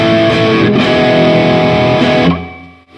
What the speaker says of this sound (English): this is the highest gain model,